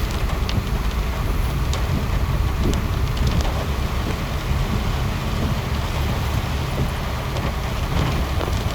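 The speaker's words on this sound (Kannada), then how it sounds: "ಬೆಂಗಳೂರಿನ ಮಳೆ" Heavy monsoon rain pours down over KR Market in Bangalore, a loud, dense, continuous roar of water hitting streets and surfaces, with faint traffic beneath it.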